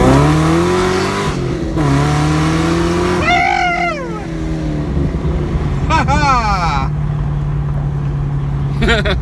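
A cammed Chevrolet Camaro ZL1 roars through a hard power pull, its engine note climbing steadily with sharp rising shift sweeps, loud inside the cabin while people talk over it.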